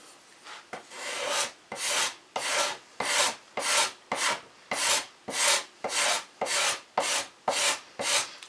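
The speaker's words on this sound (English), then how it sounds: "I'm going to use just a slightly curved cabinet scraper" A slightly curved cabinet scraper works across a wood panel on a workbench, making about fourteen rhythmic, rasping strokes, each close and firm, with short gaps between them.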